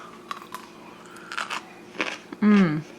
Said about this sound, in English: they definitely still retain a really good crunch